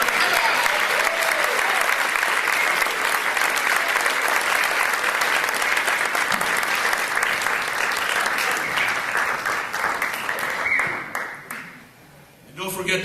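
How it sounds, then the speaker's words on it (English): A magic show audience bursts into loud, sustained applause, dense clapping filling the room nearly throughout before thinning out near the end. "The applause is deafening, it's all yours."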